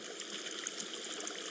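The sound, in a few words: character wading into water, from a video game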